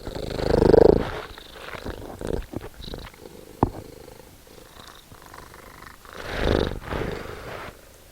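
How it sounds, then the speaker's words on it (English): A house cat purrs close to the microphone, a low rhythmic rumble with a loud swell near the start and another later, broken by soft shuffles and a sharp tap in between. "You want to purr for everybody, Lexi?"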